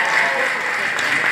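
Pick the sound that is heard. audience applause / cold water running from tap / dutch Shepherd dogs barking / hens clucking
audience applause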